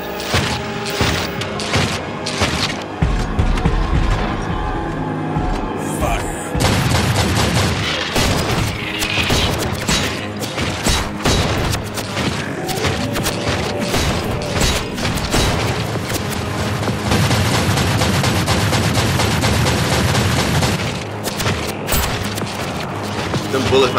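Heavy bullet fire and booming impacts from a Warhammer 40K animated battle, a loud sustained barrage with mechanical clatter and crashes, and voices talking over it.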